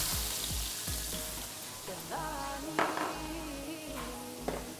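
Sliced onion fries in hot oil with fish and peppers for kabkabou, giving a steady close sizzle broken by a few light clinks and scrapes of a utensil in the pan.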